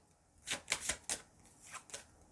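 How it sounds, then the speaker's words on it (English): A deck of weather cards for a racing board game is shuffled close up, with a run of quick crisp riffles and flicks followed by a couple of softer taps. "So let me shuffle the weather cards."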